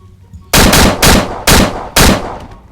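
A sten submachine gun fired in Roblox, four loud close bursts of rapid shots spaced about half a second apart, each cutting off sharply into near silence.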